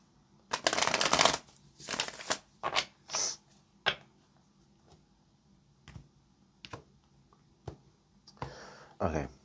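Tarot cards being shuffled by hand, a long riffling burst followed by several shorter rustling shuffles and soft taps, close and fairly quiet, alone without talk.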